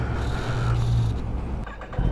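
A 2018 Kawasaki Ninja ZX10R fitted with an M4 slip-on exhaust idles roughly on a cold start, with a loud, steady low rumble close by and a brief dip before it picks up again.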